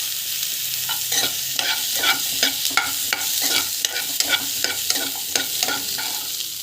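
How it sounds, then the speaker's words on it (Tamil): Onions and fennel seeds sauté in a pan, a steady sizzle broken by a regular run of spatula scrapes and stirring taps. "ஸோ நல்லா வந்து வதக்கிக்கோங்க"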